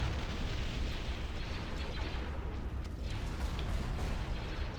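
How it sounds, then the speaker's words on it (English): Explosions from a space battle in Star Wars: Empire at War with the Awakening of the Rebellion mod, a dense continuous roar of blasts and rumbling booms that stays loud and steady throughout, with no speech. "Man, that explosion's insane."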